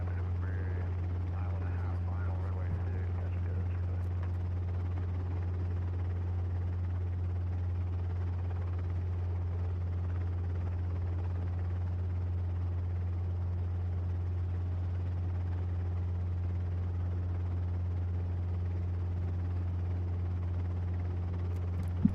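A helicopter on a first solo flight drones steadily from inside the cabin, a loud continuous low rotor hum with a constant engine whine, unbroken for the whole stretch.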